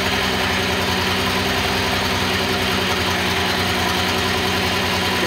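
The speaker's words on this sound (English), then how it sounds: "so while the engine's warming up" A Datsun engine idles on a run stand while warming up, a steady, close, continuous drone with a faint knocking vibration running evenly through the whole stretch, with no talking.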